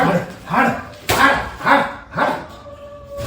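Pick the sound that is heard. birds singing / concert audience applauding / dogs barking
dogs barking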